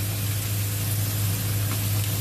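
Chopped onion frying in a pan on a stove, a steady even sizzle with a constant low hum underneath, close and continuous with no talking.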